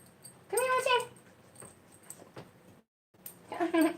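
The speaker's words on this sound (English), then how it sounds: "my dogs have to go. They have spoken." Dogs whimper and give short whiny vocalizations indoors, close and fairly quiet, in a couple of brief bursts separated by a short pause.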